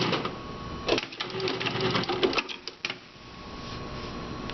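A Juki industrial sewing machine stitches at a short stitch length, giving a rapid, steady mechanical clatter close by. It falters briefly and then carries on more faintly.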